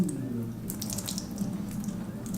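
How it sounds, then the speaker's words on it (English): Cold water poured over a cracked plastic bumper on a Honda S2000, a steady close splashing stream running unbroken and fairly loud throughout, with no talking. "next up we're just gonna pour a little bit of water."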